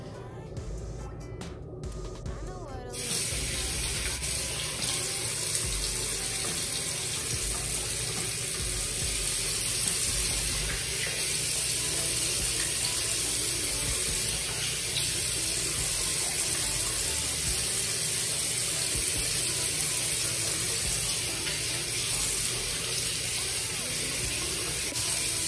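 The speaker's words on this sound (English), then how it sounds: "And I'm going to rinse this one with warm water." Warm tap water running steadily into a sink while a clay face mask is rinsed off, a loud continuous spray that starts after a brief quiet moment and carries on with small splashing changes.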